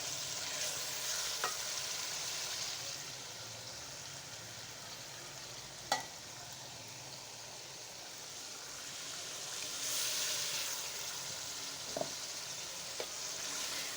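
Steady sizzling of chicken curry frying in a pan with a little water added, with occasional scraping clinks of a utensil stirring, continuous and fairly close with no voices.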